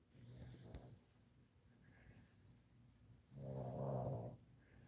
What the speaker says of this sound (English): Hear Daisy snoring